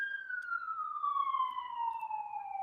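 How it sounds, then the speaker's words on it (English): A police siren passes outside open windows, one long tone falling slowly in pitch as the car moves away, faint and distant with no talk over it. "But you may hear that police siren going by"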